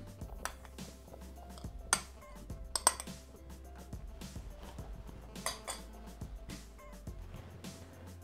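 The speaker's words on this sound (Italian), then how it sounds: "aggiungiamo la farina, il burro freddo a pezzi" Flour and cold butter pieces drop into a Thermomix bowl in a kitchen, giving scattered soft thuds and clinks of utensil against bowl, moderately near and fairly quiet, with no talking.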